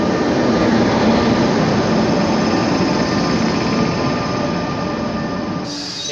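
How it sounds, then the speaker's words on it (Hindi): Howrah Jamalpur Express hauled by a WAP-5 electric locomotive passes close by, a loud continuous roar of wheels and rattling coaches with faint metallic squeal, steady for several seconds before easing slightly at the end. "ये है अपनी हावड़ा जमालपुर एक्सप्रेस।"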